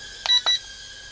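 Two short electronic beeps in quick succession from a SNAPTAIN H823H mini drone controller, signaling the fast rate setting, sharp and close, followed by a faint steady hum.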